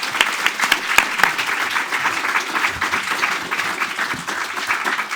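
Audience applause for a panel at a discussion event on domestic violence and the law, sustained dense clapping from a sizable crowd with no voices over it.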